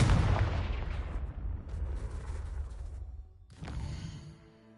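A Confringo blasting spell explodes in a Harry Potter-style video game: one big, loud boom opens and decays into a rumbling tail over several seconds, then a second, smaller blast follows near the end.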